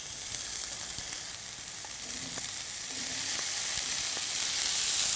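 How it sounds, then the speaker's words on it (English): Brussels sprouts with pancetta fry in a hot pan in a steady broadband sizzle that grows slightly louder and fuller toward the end, with a few faint clicks and no talking. "so I'm just going to add the Brussels sprouts."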